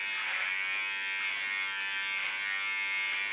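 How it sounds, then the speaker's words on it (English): Electric hair clippers buzz steadily while cutting hair off-comb during a colorful punk haircut, a close, continuous whirring drone with slight pulses as the blade passes through hair. "Do this clipper off comb"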